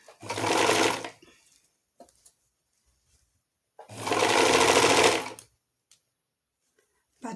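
Sewing machine stitching and gathering the skirt of a girl's dress: two loud, steady runs of motor hum and needle clatter, each about a second long, separated by quiet pauses.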